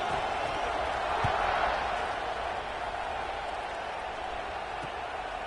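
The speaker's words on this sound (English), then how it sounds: "this crowd is buzzing after that last score" Large football stadium crowd at a game against Oregon, buzzing before a kickoff after a touchdown: a dense, steady roar that holds loud throughout, with a faint swell early on.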